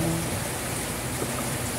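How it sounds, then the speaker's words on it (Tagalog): Rain falls in a steady, even hiss of droplets, a continuous close-up wash with no talking over it. "Ayan, umuulan na naman"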